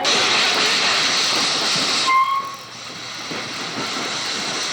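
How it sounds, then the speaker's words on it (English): A steam locomotive, Virginia & Truckee Railroad engine 29 at Virginia City, rumbles along steadily with a broad hiss, then a brief high whistle-like tone sounds partway through before the steady running noise continues. "This is engine 29 of the Virginia City Truckee Railroad."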